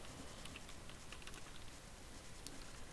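Typing on a computer keyboard while entering commands for a network security audit tool, a quiet stream of soft, close key taps against faint background hiss.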